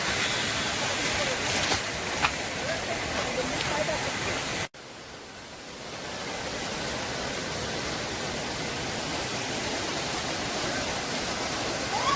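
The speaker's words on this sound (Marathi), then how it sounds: "आम्ही आता एका धबधब्याच्या जवळपास आलोय." Donawade waterfall near Jambhulkada in dense forest, a steady broadband rush of falling water that stays loud throughout, with a brief dropout partway before the roar resumes at a slightly lower level.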